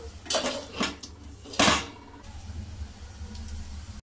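A metal lid is set onto a cooking pan holding cabbage snacks: a few sharp clanks and rattles close by, followed by a soft steady hiss from the covered pan.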